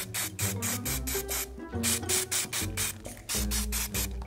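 Pink spray paint hisses from a can onto paper through a 3D-printed stencil in repeated short bursts, close and loud, over a background of low music.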